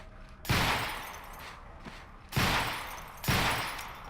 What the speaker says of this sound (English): As you can see, firing from the hip is not an easy business, especially with a sidearm.